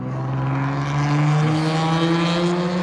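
Loud exhaust of a passing vehicle on an asphalt road under construction in El Paso, a steady droning engine tone that shifts pitch midway as it goes by, fairly close and continuous.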